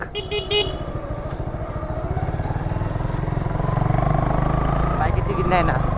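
Suzuki Gixxer and Yamaha FZS V1 motorcycles ride side by side at a bridge toll point, with a steady close engine drone building slightly louder, broken by car horn toots near the start and a voice talking over it.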